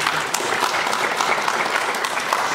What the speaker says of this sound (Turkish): Bir kendinize alkışlamanızı rica ediyorum